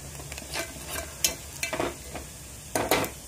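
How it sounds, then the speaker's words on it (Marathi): Onions fry in a pan for a Maharashtrian egg curry, with soft sizzling under intermittent scraping stirs of a utensil against the pan, close and moderately loud. "आता आपण कांदा लाल करून घेतलेला आहे"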